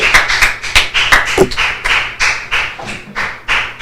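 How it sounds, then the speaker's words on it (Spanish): Church congregation clapping in a steady rhythmic beat, sharp repeated claps close and loud, with no talk over them. "Yo te invito a que le des un fuerte aplauso al Rey de Gloria."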